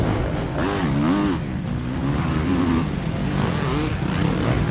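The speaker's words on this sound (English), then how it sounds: "So the field go charging around the track for the first time today." Motocross bikes race around a sandy track at Long Lane, a two-stroke Honda CR500 among modern 450 four-strokes, their engines droning and revving together in a steady loud roar with rising and falling pitch.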